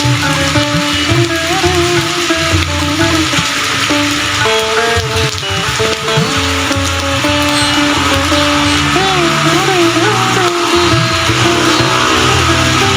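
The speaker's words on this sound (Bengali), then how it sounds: "রাস্তাতে প্রচুর গাড়ি।" Busy road traffic in heavy morning rain in Malaysia, with a continuous hiss of rainfall mixed with the rolling drone of passing cars throughout.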